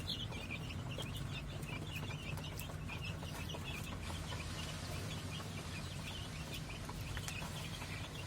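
Young chicks chirp in a brooder, a constant flurry of thin, high peeping calls over a low background hum, fairly close and with no talking.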